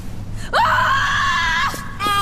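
A single loud, sustained scream from a voice actor in a comic radio drama, rising sharply and held for over a second, with a brief quieter vocal sound following.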